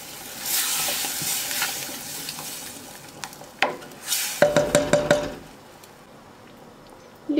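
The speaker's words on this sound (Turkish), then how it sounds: "Unu kavurduktan sonra sebze karışımını ilave ediyorum." A vegetable mixture is added to flour roasted in a pan and sizzles loudly, with bursts of hissing and a run of quick clattering stirs, up close and with no talking.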